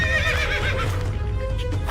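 A horse whinnying up close, a loud quavering neigh that drops off into softer snorting, with faint hoof clatter underneath.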